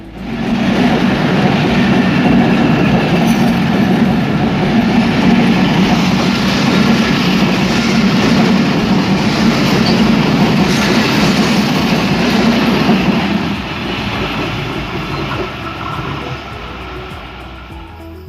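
The Titumir Express, a Bangladesh Railway intercity train on the Rajshahi–Chilahati route, rumbles past with a loud continuous roar and rhythmic wheel clatter that eases slightly near the end.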